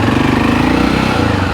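A 250cc motorcycle runs on the road in Cambodia with a loud, rapid engine putter and heavy rumbling noise from the rear, continuous and close.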